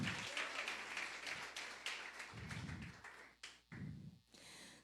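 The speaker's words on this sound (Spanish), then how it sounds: "Aplaudamos al Señor, amén." A church congregation claps in praise, a dense burst of applause that swells and breaks into uneven pulses with brief gaps, fairly close and filling the room, with no talk over it.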